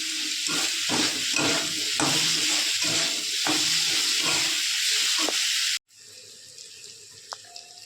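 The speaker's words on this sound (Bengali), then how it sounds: "মশলাটা ভালো করে কষিয়ে নেব।" Spice paste with salt sizzling and frying in a pan for a potato, pointed gourd and egg curry. It gives a steady hiss with small crackles and stir scrapes, then cuts off abruptly to a quiet room tone with a few faint clicks.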